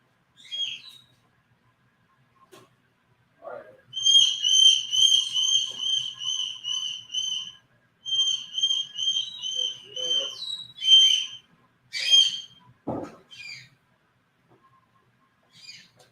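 Indoor pet birds whistling and chirping in long rapid trilling bursts, fairly close and loud, broken by short pauses and a few sharp single calls, with no talk.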